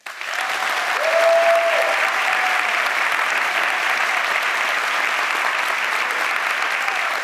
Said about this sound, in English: So applause if you'd like to see AOC run for the United States Senate.